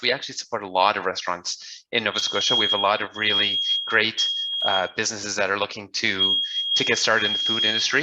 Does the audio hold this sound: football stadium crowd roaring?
no